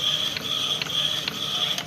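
An Epson L121 inkjet printer loaded with art paper ink and fitted with an unmodified front exit roller, running with a steady high mechanical whine and regular soft clicks about every half second, with no talking.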